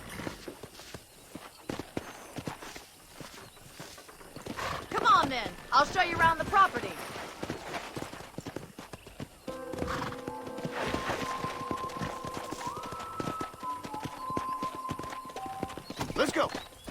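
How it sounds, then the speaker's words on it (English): Horse hooves clip-clopping at a steady walking pace in Red Dead Redemption, with occasional whinnies, under in-game dialogue and music. "let's see if you can still ride a horse."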